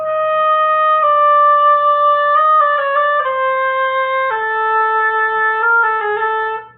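An oboe plays measures 18 and 19 of a 2018 All-State oboe etude: a smooth, sustained solo line stepping through several held notes, clear and close with no talking.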